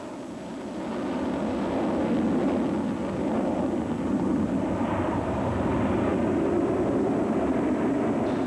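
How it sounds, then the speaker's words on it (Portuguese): A B-1 bomber's deep, broad jet roar swells in and holds steady for several seconds at an air show, sounding big and distant. "Velocidade e barulho também contam. O bombardeiro B-1 é um exemplo."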